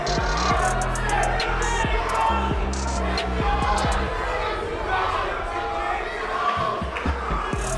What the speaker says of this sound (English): Cute little crowd we got here.